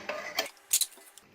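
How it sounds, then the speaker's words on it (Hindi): A pressure cooker lid is opened after cooking masala vegetable khichdi, giving a few short metallic clanks and scrapes of the lid against the pot, close and fairly quiet, with no talk. "अब कुकर खोल के खिचड़ी को चेक करते हैं"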